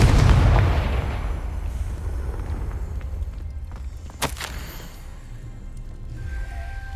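A Confringo explosive spell bursts in Hogwarts Legacy, a loud booming blast at the start that decays into a long rumbling tail, followed by a sharp crackling impact midway and quieter game ambience.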